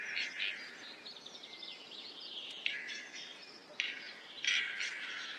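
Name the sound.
male capercaillie birds displaying on forest floor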